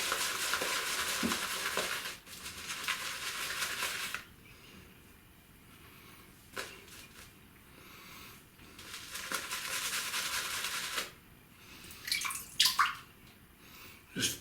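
Water gushes in bursts into the small nozzle hole at the top of a water brush, loud rushing spells broken by quieter pauses and a few drips.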